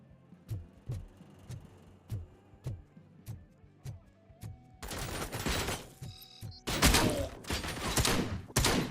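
Gunfire in a RoboCop video game: evenly spaced single shots ring out one after another, then give way to louder, dense bursts of rapid fire in the second half.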